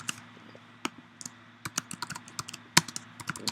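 Someone types on a computer keyboard nearby, with quiet, irregular clicks and taps in short bursts and no talking.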